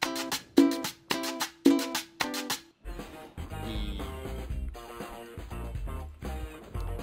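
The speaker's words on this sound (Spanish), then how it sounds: "Ahora ahí ya tenemos la guitarra marcante." Rhythm guitar part from a music production: a few evenly spaced chopped chords at first, then a fuller, denser strummed texture with deep low end carrying on steadily to the end.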